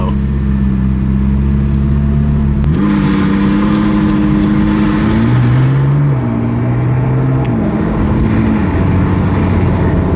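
A hypercar rolls over speed bumps with a loud, close engine drone that steps up and down in pitch as it brakes and accelerates over each bump.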